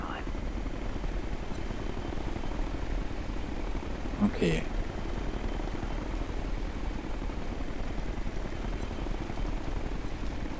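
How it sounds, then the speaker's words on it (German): A military drone deployed in the video game Ghost Recon Future Soldier gives off a steady, helicopter-like rotor hum throughout, with a player speaking briefly over it. "Setze Drohne ein."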